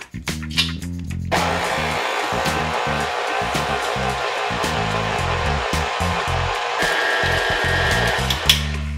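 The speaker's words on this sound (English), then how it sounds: "We start with the paddle attachment first, just to get the dough started." A stand mixer with a paddle attachment mixes matnakash bread dough, its motor starting after a second of knocking and then holding a loud, steady whirr with rhythmic thumps from the paddle.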